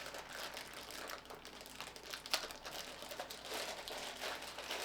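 Plastic wrapping crinkles and crackles steadily as it is peeled off a Neewer MS60B LED video light, with a sharper rustle midway and no talking.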